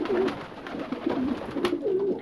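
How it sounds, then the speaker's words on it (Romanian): A pigeon with an injured wing, just pulled out from behind a wardrobe, coos nearby in a few soft, rounded, repeated calls with short pauses between them. "Și era porumbelul acolo."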